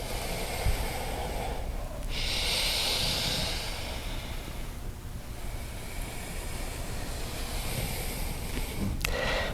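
Steady yoga breathing in and out during a standing pose: a continuous airy hiss with a stronger breath swelling partway through and a faint click near the end.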